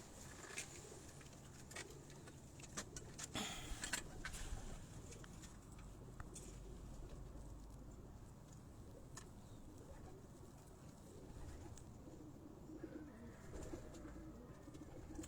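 Pigeons, including a golden-colored fancy breed, coo softly on a rooftop amid a busy outdoor background, with a few scattered taps and knocks.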